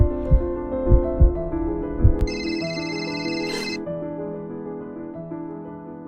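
A mobile phone rings, its electronic ringtone starting partway through and chiming for about a second and a half over a sustained musical drone with soft, low thumping beats.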